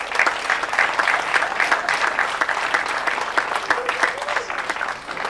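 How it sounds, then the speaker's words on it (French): An audience at a Volvo dealership event in Eaubonne applauds, clapping steadily and fairly close for several seconds before tapering slightly at the end. "J'aimerais qu'on les applaudisse."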